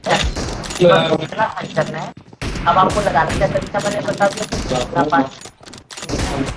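Gunfire in PUBG Mobile during a team deathmatch with M24 rifles, bursts of shots crackling through the round while players shout and talk over the action.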